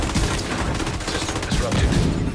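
Rapid gunfire in The Division 2 during a stronghold fight, a dense continuous volley of close shots with voices underneath.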